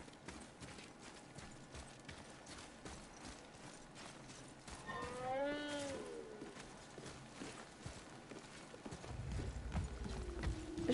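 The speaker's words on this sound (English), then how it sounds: "Es un caballo enorme." Horse hooves clip-clop in the God of War video game, a steady mechanical walking rhythm running under game music and ambience, with a brief bright musical flourish midway and a rumbling swell toward the end.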